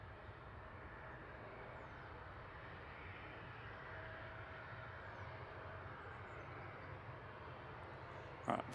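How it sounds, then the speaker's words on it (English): A Logan Air aircraft arriving at Manchester Airport, a steady distant engine roar that holds level throughout without clear rise or fall, with a brief bump near the end. "Logan Air arriving in the background"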